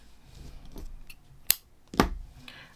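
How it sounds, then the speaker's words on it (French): Scissors snip through crochet thread in two sharp, close clicks about half a second apart, against quiet background handling noise. "On coupe le fil, les amis."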